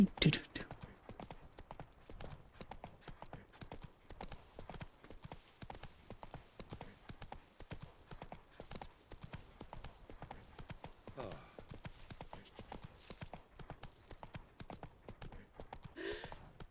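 Roach, the horse in The Witcher 3, walking with a steady stream of soft clip-clopping hooves throughout, fairly quiet.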